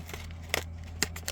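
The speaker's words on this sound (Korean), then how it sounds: "포장을 열었습니다. 가위 잘라서" Scissors snip through tea packaging for Wuyi rock tea in three or four crisp, close cuts spread over a second, over a steady low hum with no talking.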